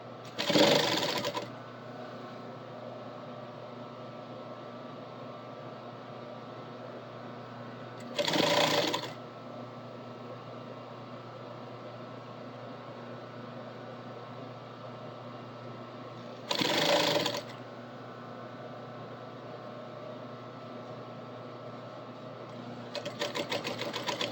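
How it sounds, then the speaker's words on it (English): A sewing machine stitches binding along a bottom edge in three short bursts a few seconds apart, over a quiet steady background hum. "We're just going to backstitch this at the end"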